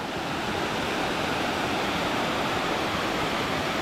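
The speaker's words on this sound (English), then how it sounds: "Just look at that waterfall." A waterfall roars steadily along a rugged, overgrown hiking trail, a dense, continuous rush of water that stays loud and unbroken throughout, with no voices.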